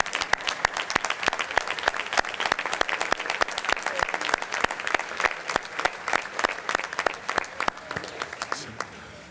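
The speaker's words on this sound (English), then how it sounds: "could you please stand and accept the applause that I'm going to ask people to give you" Applause at an architecture conference gala, close and crisp clapping with individual sharp claps distinct in a fairly regular rhythm, steady for several seconds and tapering slightly at the end.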